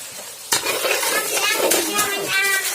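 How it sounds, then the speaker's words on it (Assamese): Tomato, onion, ginger and garlic fry in a pan for a home chicken curry gravy, with a steady close sizzle and a sharp stirring scrape starting early, then repeated stirring clatter over the frying hiss. "বিলাহী পিঁয়াজ আদা নহৰু এইফালে ভাজি আছোঁ"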